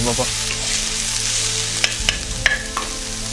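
Spicy Bengali egg curry masala with garlic paste sizzling steadily in a pan, with a few sharp scrapes and clinks of a spoon stirring near the end, close up and without talk.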